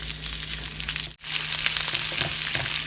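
Sliced smoky pork sizzles steadily in a hot pan, a continuous close broadband frying hiss that cuts out for a split second midway and then resumes just as dense.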